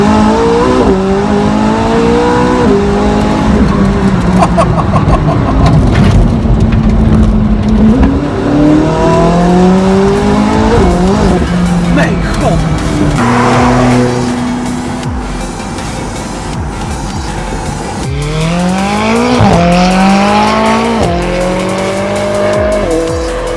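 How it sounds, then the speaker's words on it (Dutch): McLaren 675LT Spider (2016) driven with the roof open, its engine loud and close, revving hard through repeated rising gear pulls with sharp shifts, easing off briefly midway before climbing again, with tire squeal mixed in. "Dan kun je de motor nog beter horen."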